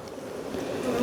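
Honeybees swarm densely over a beehive frame, their steady, close buzzing hum rising slightly in loudness across the short moment, with no voices.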